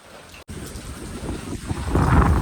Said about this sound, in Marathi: हा बघा पाऊसच पाऊस